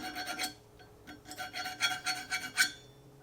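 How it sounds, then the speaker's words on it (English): A metal file rasps across the teeth of a cut steel universal axle shaft for a 1955 Ford Fairlane, with a run of short, close scraping strokes in an uneven rhythm. "Now using this file, just going to clean up the teeth a little."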